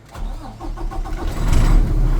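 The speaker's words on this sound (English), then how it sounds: "I'm gonna wait 4 seconds for my computer to synchronize. 1, 2, 3, 4, and start my truck." A Class A truck engine cranks and catches after the ABS light cycles, a short starter whir that rises into a loud, rumbling idle up close.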